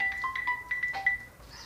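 A mobile phone plays a short melodic electronic ringtone of quick beeping notes, fairly close and clear over a quiet background.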